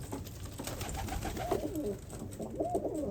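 Hünkar breed pigeons cooing inside a coop, soft low repeated coos close by over a light background rustle.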